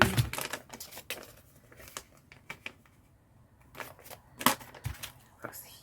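Scissors cutting across a sheet of paper for a junk journal, heard as quiet, irregular snips and papery crinkles close to the mic, with a few sharper clicks among them.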